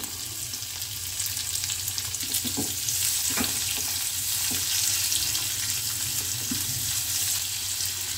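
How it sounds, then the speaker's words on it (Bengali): Garlic, green chilli and onion sizzling steadily in hot oil for a potato rice dish, with a spatula giving a few soft scraping stirs over the continuous frying hiss, close and fairly loud, no voices. "এবারে আমি রসুনটা কাঁচা লঙ্কাটা দিয়ে দিলাম, ভালো করে নেড়ে দিই। পেঁয়াজটা দিয়ে দিই।"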